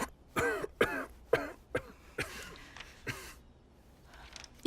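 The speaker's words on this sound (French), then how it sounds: "Il faut absolument que tu soignes cette toux." A run of harsh coughs and throat clearing, about six or seven bursts in quick succession, fairly close and loud, then trailing off into quiet.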